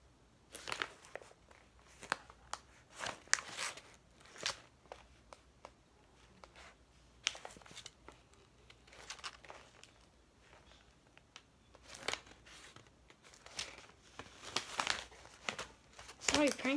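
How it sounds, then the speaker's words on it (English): Envelopes being torn open, with bursts of paper crinkling and ripping scattered across the stretch, some close and sharp, others softer, while a voice talks intermittently between them. "Open up envelopes."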